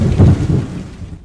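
Heavy cartoon rain with a deep, rumbling clap of thunder that booms loudly near the start, then fades out over about a second.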